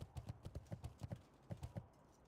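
Hoofbeats of the Blood Elf Charger, a paladin horse mount in World of Warcraft: The Burning Crusade, a steady clip-clop of evenly spaced hoof strikes, close and moderately loud, with no voices.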